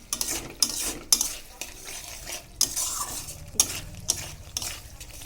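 Fried soybeans stirred together with fried jackfruit in a pan, a spoon scraping and clinking against the metal in repeated strokes over a light, close sizzle.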